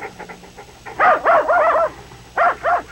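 Dog barking in a late-1980s Kraft cheese spread commercial, a run of loud, close, rapid barks in two bursts after a quiet start, with no one speaking.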